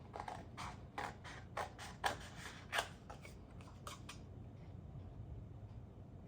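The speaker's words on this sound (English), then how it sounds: "You can hear as I'm cutting how thick it is." Scissors cutting through thick fabric for a sewn pumpkin patch, a quiet close run of crisp snips and crunching chews in a steady rhythm that trails off after a few seconds.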